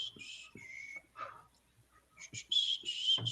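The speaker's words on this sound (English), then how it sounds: "remember we said we're gonna whistle or sing while we were loading stuff" Several people whistle loosely while waiting for a screen share to load: short bright tones, then a clearer sustained whistled melody in the second half, with soft knocks and shuffles in between.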